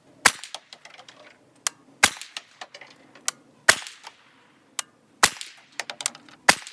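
Suppressed 9mm shots from a CMMG Banshee pistol firing Federal Gold Medal Match ammunition, five sharp muffled cracks spaced irregularly about a second or more apart, each followed by faint clinks and mechanical rattles between shots.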